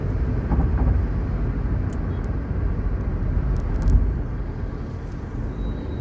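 Volkswagen Polo hatchback engine pulling after a downshift, a steady low drone heard from inside the cabin with road rumble underneath, holding even and moderately loud with a slight rise midway.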